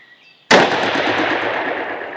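A single loud, close shot from a Magnum Research Desert Eagle XIX .44 Magnum pistol with a 6-inch barrel, a sharp crack followed by a long, booming echo that slowly fades.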